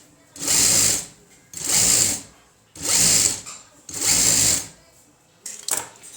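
Domestic sewing machine stitching along the edge of a blouse's side seam, four steady whirring bursts of roughly a second each with short pauses between, then a brief stuttering start at the end; close and loud, with no talk.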